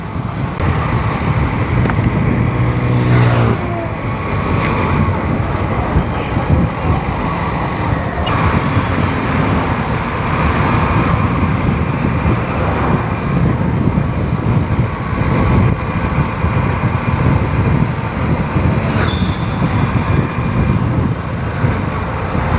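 A car drives along a road and swings through a sharp turn, its engine and tyre noise rumbling steadily alongside wind buffeting the microphone and passing traffic, with no talk heard.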